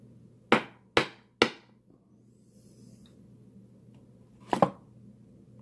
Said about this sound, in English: My little hammer.